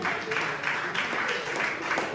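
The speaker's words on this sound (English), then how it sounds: "applause for yourselves" At a stand-up comedy show, an audience breaks into applause, a continuous patter of clapping that swells in small waves and stays fairly even in level.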